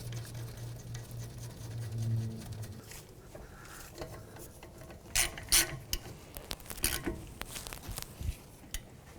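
Ratchet clicking as brake caliper bolts are tightened on a 2007-2013 Acura MDX front brake job, with a low hum early on, then close, sharp bursts of pawl clicks and metallic taps in quick irregular runs.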